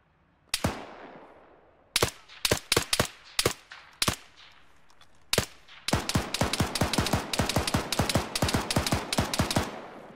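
Gunfire in a military shooter game: a few single shots, then scattered bursts, then a long rapid automatic stream of sharp cracks, loud and close.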